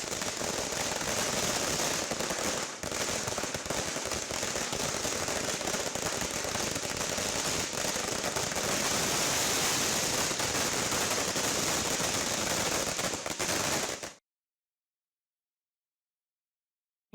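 Firecrackers bursting in a long, dense, continuous crackling barrage at a by-election victory celebration by party supporters, loud and sustained for about fourteen seconds before stopping.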